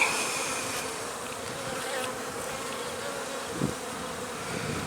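Honey bees buzz steadily from an opened hive on the first warm day in March, a dense, close, continuous hum with no talking.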